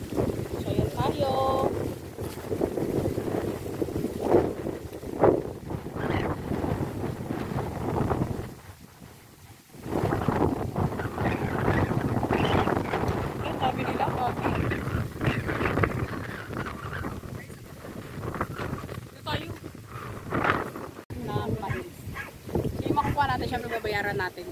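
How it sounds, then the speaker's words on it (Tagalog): Strong outdoor wind gusts roar against the microphone at a corn field during a glutinous corn harvest, buffeting almost continuously with a brief lull, while people talk over it. "Wow, sarap ng hangin dito."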